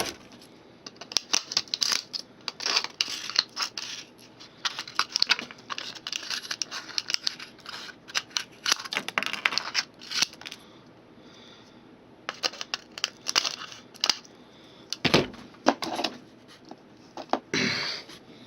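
Scissors snip and crinkle through material for a homemade catapult, with irregular bursts of sharp cuts and rustling separated by short pauses, close and fairly quiet.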